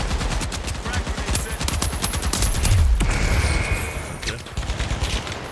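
An AK rifle in a video game fires bursts of rapid, loud gunshots, with a short spoken word and light sounds in between.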